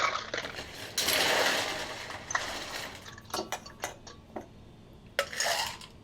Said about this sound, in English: And then I'm going to add some ice to this bad boy.